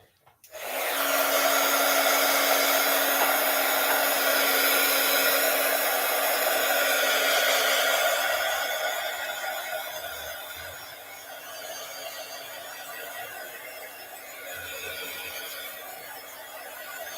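A hair dryer drying paint on a handmade Christmas card switches on and blows in a loud, steady whooshing roar with a constant whine, easing slightly in pitch and level partway through as it keeps running.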